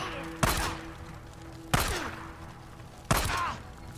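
Three loud, sharp gunshots spaced more than a second apart, each with a short ringing tail, from the video game Days Gone, heard over a low game soundscape.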